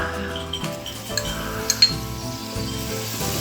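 Small onion paste for chicken biryani sautéing in a pan, a faint steady sizzle with a few light clinks of a spoon against the pan, no voices.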